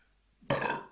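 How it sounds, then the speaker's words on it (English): A single loud, close burp right after a gulp of bitter beer during a tasting, rising abruptly and trailing off within a second. "At least it produces, well, a burp"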